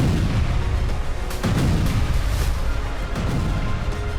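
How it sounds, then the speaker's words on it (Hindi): Russian 100 mm artillery fires in the war-torn town of Avdiivka, a continuous rumble of loud booms and sharp blasts overlapping one another, some close and heavy, others rolling in the distance. "अवदिव्का में रूस की सेना 100 mm आर्टिलरी से लगातार प्रहार कर रही है।"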